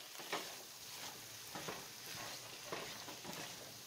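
Fish, tomatoes, bell peppers and scallions are stirred in a sizzling pan, with quiet scraping strokes repeating roughly every second over a soft, steady frying hiss.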